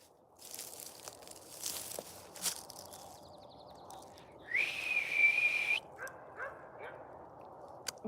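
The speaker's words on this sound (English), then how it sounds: "I can't whistle." An attempted whistle to call a dog on a ranch at sunset: a single sustained, fairly loud whistle tone of about a second, with dog barks, outdoor rustling and scattered noises around it.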